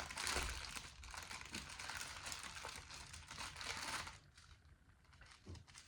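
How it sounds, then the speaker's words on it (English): A cellophane bag crinkles loudly and continuously up close, rustling and crackling during diamond painting, then settles into softer, sparser crackles. "I'm gonna try to get another bag because this cellophane bag makes a lot of noise"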